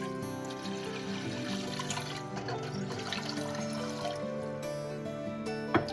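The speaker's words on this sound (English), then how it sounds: "So in a large pot, we're going to put 6 cups of water." Water, six cups measured out, pours into a large cooking pot in a home kitchen, a quiet, continuous trickling splash with no talk over it.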